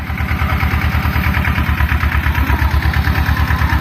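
The engine of an ISEKI TS2200 single-axle walking tractor runs at a steady idle, a loud, close, low rhythmic chugging with a mechanical rattle on top.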